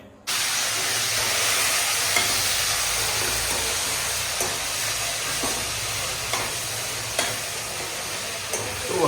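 Spices hit hot oil for a tempering and sizzle loudly and steadily, with occasional small clicks and pops, and no talking over them.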